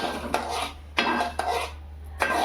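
Sesame seeds being roasted for tilgul ladoo in a pan over a low flame, with repeated scraping and clinking of a spoon against the metal pan in an irregular rhythm, close and fairly clear over a low steady hum.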